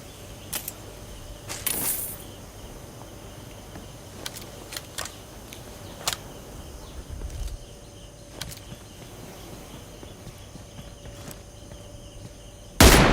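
In PUBG Mobile, an M24 sniper rifle fires sharp, isolated cracks, several spread over a quiet background, with a louder final shot at the end.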